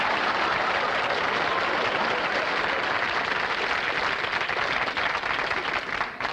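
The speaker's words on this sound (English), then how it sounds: "Give the man a nice round of applause, please." A 1955 television studio audience applauds steadily and densely with no break, the clapping close and continuous throughout.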